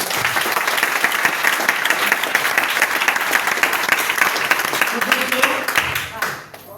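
Audience applause at an Indian motivational success-story event, dense continuous clapping filling the room, fading out near the end.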